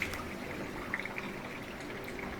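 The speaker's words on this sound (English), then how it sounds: "The circulation motor is shooting the water around really good." Water rushing and spraying inside a KitchenAid dishwasher as it fills and the circulation motor runs, a steady close wash of splashing and trickling with no talk.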